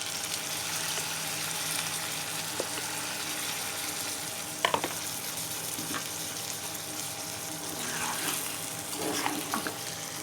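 Peshawari karahi fries in a pan with ginger, green chillies and leftover yakhni stock, giving a steady close-up sizzle with faint stirring clinks and no talk.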